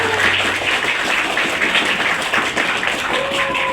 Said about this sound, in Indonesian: Tepukan untuk Pak Mega.